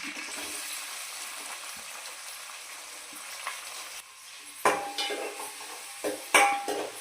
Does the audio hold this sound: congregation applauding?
no